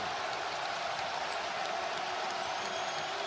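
Dense, steady roar of a college basketball crowd cheering and applauding in an arena during a Rutgers vs Seton Hall game, loud and continuous throughout with no pauses.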